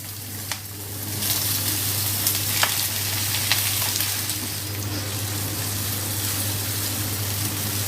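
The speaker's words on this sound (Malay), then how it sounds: "semua ingredients ni kita akan tumis" Ingredients with ginger and lemongrass sauteing for Javanese-style sambal with cockles and beef skin, a steady close sizzle with occasional scrapes and clinks of stirring, and a constant low hum underneath.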